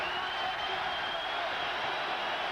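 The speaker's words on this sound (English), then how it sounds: "you'll hear a big roar from the crowd" Big boxing-arena crowd roaring at the close of a heavyweight round between Lennox Lewis and Frank Bruno, a steady, dense wall of cheering and applause sustained loud throughout.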